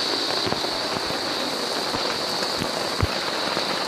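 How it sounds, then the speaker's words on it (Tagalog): Steady rain falls in a continuous hiss, with occasional louder drops and taps striking a nearby surface. "Magdamag na umuulan, guys."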